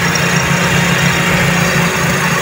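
A Toyota 4AF carburetor engine runs steadily close by after a throttle positioner adjustment, a loud continuous low hum and rumble with even idling vibration and no talking.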